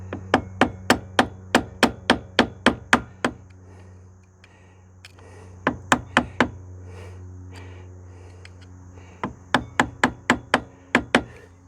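Sharp metallic hammer blows bend a tab over on a motorcycle sprocket during a 1990 LT250S sprocket and chain swap, striking in fast bursts of about a dozen, then four, then five close hits, separated by pauses over a low hum.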